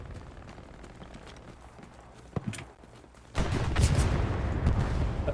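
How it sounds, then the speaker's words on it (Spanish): Gunfire in the World War II shooter Hell Let Loose at night: scattered distant shots over a rumbling battlefield, then a louder, denser burst of firing that carries on to the end. "¿Pero esos disparos son tuyos?"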